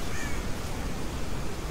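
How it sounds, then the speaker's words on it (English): A crow caws faintly in the Dead by Daylight video game, half buried in a steady wash of windy ambient noise. "Well, that bird gave me away."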